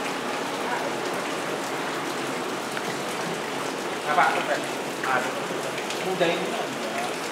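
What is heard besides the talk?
heavy rain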